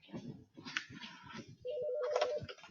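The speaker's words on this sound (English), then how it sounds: "Phone call." A telephone rings with a steady electronic tone during a lecture classroom session, sounding for about a second after a stretch of people talking nearby.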